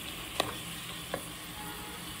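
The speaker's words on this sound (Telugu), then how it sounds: "టమాటా కొంచెం ఇలా వేగితే సరిపోతుంది" Tomatoes frying with chicken in a pan for a spicy, tangy Andhra gongura chicken give a soft, steady sizzle. Two brief clinks or stirs stand out over it.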